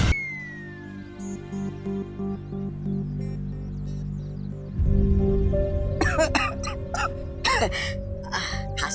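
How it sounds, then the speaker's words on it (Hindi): Someone coughs in a series of short harsh bursts near the end, following a stretch of background music with a low drone. "खांसी हो रही है,"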